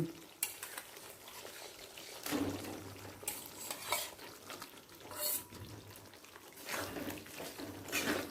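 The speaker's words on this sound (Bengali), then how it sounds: "ভেজে রাখা পটলটা দিয়েও মশলার সাথে ভালো করে মাখিয়ে নিয়ে একটু কষিয়ে নেব" Fried pointed gourd is stirred into red chili masala in a pan, giving repeated scraping and stirring strokes over a soft sizzle, close and moderately quiet, with no talk.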